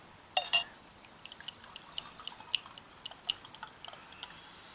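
Water poured in a thin trickle into a glass of Tullamore D.E.W. Irish whiskey, heard as close, sparse drips and small splashes with a few bright clinks, quiet and alone.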